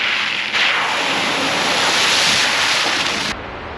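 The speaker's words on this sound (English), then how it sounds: "get yourself a safe distance so you don't get splashed when we go through this puddle" A vehicle drives through a large puddle on an outdoor trip, throwing up a loud, continuous rush of splashing water that swells for about three seconds and then drops away abruptly.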